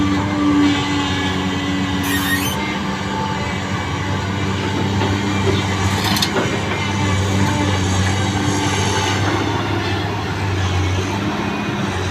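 A Mitsubishi D50A tractor with its original Japanese engine runs nearby, a loud, steady diesel drone with a low harmonic hum that holds level throughout, marked by a couple of faint clanks.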